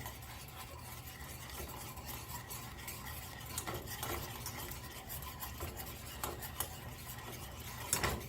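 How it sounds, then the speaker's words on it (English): Spoon stirring butter into heavy cream in a pot over fairly high heat for chocolate truffles, a steady soft scraping and rubbing with occasional clicks of the utensil against the pot, close and continuous, with no talking. "Stirring up butter in the heavy cream."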